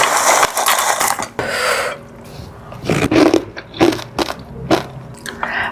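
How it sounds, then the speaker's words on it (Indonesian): Close, loud crunching bites into crispy fried wonton crackers during a mukbang of cireng in cheese soup, several sharp crackly bursts separated by short pauses, with no talking. "Aku mau nambahin kerupuk pangsitnya aku biar kriuk-kriuk."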